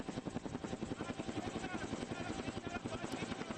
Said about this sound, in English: here's helicopter footage of massive Iranian protest